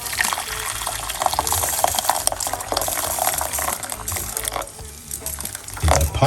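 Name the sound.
hot water being poured into a pot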